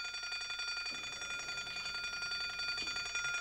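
A fire alarm bell rings continuously, a steady metallic trill that sounds faint and distant with nothing else over it.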